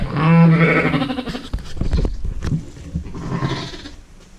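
A sheep bleats loudly up close as it is weighed for drenching, followed by shuffling and scuffling movement and another softer bleat.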